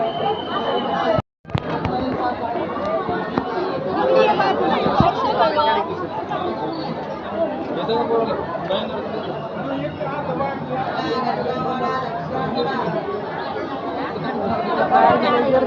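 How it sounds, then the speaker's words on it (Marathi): A dense crowd of pilgrims chatters steadily at the Tuljapur temple, a loud continuous babble of many overlapping voices close around, with one brief dropout near the start. "गर्दी"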